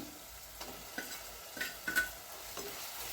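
Onions and masala being stirred and sautéed in a pan for a village-style Sankara fish curry, with a soft steady sizzle and a spoon scraping the pan about every half second, fairly quiet and close.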